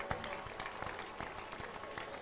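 A congregation at a crusade-style church healing service in Asaba claps along, with sharp, irregular hand claps spread through a steady crowd roar that fills the short stretch.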